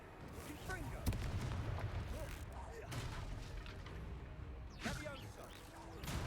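Fiery spell blasts and explosions in the Hogwarts Legacy video game, a dense run of booms and crackling bursts with sharp peaks around one, three and five seconds, under game voices and music.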